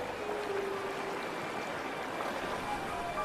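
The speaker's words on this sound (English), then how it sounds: "Trickles of water become torrents." A small snowmelt runoff stream, swollen into a torrent as spring snowpack melts, feeding a beaver pond: a steady broadband rush of flowing water, moderately distant and even, with no voices.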